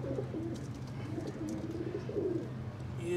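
Pigeons coo repeatedly at close range in a breeding loft where a chick is being helped out of its egg, low throaty calls rising and falling over a steady background hum, with no talking.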